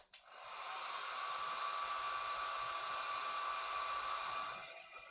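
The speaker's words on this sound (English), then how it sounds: "my to-go dry improver, my hair dryer." A hair dryer runs with a continuous whining blow that switches on abruptly, holds a steady pitched hum for several seconds, then winds down at the end, loud and alone.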